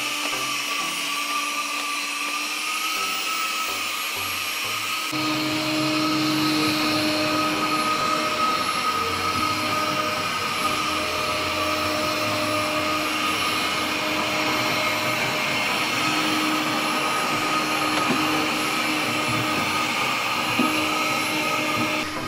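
A HOBOT 388 window-cleaning robot runs on glass with a continuous, loud motorized whir like a vacuum, kicking in a few seconds in and holding steady alone for the rest.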